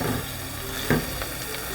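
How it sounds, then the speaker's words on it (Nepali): Ground spices, turmeric, cumin-coriander powder and red chilli, fry with onion and garlic paste in a pan for yam curry, a steady close sizzle with a brief stirring scrape partway through. "मसलालाई पनि भुटौँ।"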